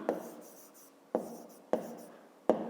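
Pen or chalk strokes during a fifth-grade math lesson, four sharp taps spaced about a second apart, each followed by a short scratchy trail, close and fairly quiet in a still room.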